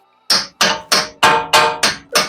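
Seven sharp, evenly spaced hammer blows ring out on metal while removing a brake caliper from a Honda Civic Mk8 Type R, each strike loud and close with a short metallic ring.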